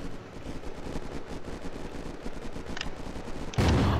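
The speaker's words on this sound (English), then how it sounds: "Who the fuck is shooting an LMG over there?" A light machine gun firing in Rainbow Six Siege, a rapid, sustained stream of distant shots rattling in a steady rhythm, with a louder close burst at the very end.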